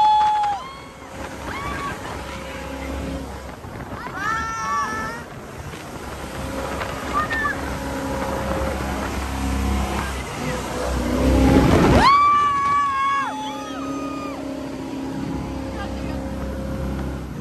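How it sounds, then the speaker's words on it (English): A motorboat ride off Tulum, with a steady engine drone and wind buffeting the microphone while people talk and shout over it. "How would we rate that boat ride?"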